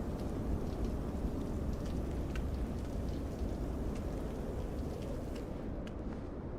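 Simulated rain falls in Microsoft Flight Simulator 2024 around an A2A Aerostar 600 aircraft. The downpour is a steady, even hiss that carries on throughout, with no voices.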